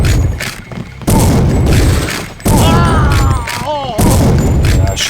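Booming shotgun blasts from Deus Ex: Revision ring out in several loud, close bursts separated by short gaps, with game voices and sounds layered in between.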